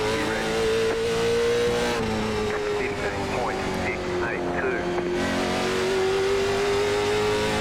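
Race car engine droning steadily at Langley Speedway in the iRacing simulator, a loud sustained note with slight pitch shifts as the throttle eases and builds, a voice talking over it throughout.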